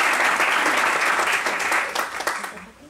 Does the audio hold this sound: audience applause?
yes